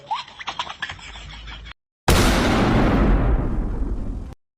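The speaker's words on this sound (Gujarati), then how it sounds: "બહાર જઈને જોજે કોણ ફટાકડા ફોડે છે" A loud firecracker-like bang bursts out suddenly and trails into a long, rumbling fade, after a stretch of scattered crackling noise.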